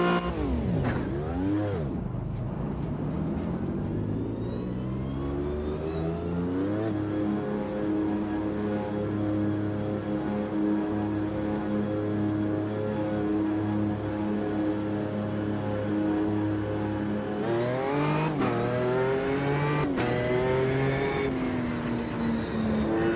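A race car in Automobilista 2 at full Brands Hatch: a loud, close engine climbs through the gears with sharp upshifts, holds a steady high-revving drone, then brakes and downshifts with blips before accelerating again, with no talk.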